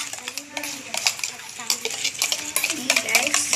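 Slime mixture being stirred in a bowl until it thickens, with steady scraping and clinking strokes close by while children talk over it.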